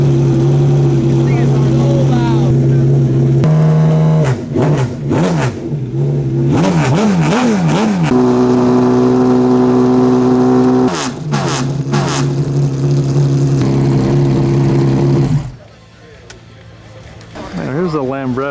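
A BMW V12 fitted to the Downenhauer Special, a custom car on a Porsche undercarriage, revs loudly and close up at Monterey Car Week, its steady droning tones rising and falling in repeated blips under a speaking voice before cutting off near the end.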